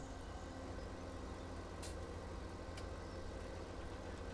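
A tractor engine in Farming Simulator 17 drones steadily at high revs, a constant, dense mechanical roar with faint clicks, running evenly throughout without pause.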